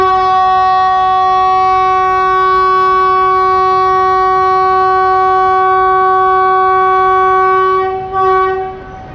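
A train pulls out of Subrahmanya Road railway station, its horn sounding one long, loud, steady blast close by that only wavers and fades near the end.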